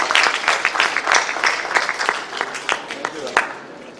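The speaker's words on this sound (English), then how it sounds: "A round of applause for him also." Audience clapping at an architects' dinner night during IAPEX 2018, a dense patter of hands that holds steady for about four seconds and eases slightly toward the end, with voices mixed in.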